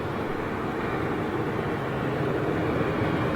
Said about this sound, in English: Boeing 747 over Boreham Wood